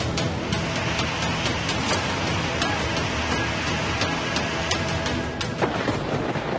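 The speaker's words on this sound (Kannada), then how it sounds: "ಧೋ ಅಂತ ಎಡಬಿಡದೆ ಸುರಿಯುತ್ತಿದೆ" Heavy rain pours down steadily and loudly in Bengaluru, a dense continuous roar with sharp drips and splashes spattering throughout.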